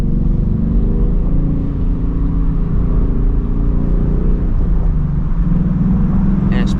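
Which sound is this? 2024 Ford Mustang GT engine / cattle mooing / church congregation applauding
2024 Ford Mustang GT engine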